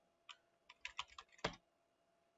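A password is typed on a computer keyboard to log in to Windows 10: a short, close burst of light key clicks in uneven clusters, ending with a sharper keystroke, with no talking.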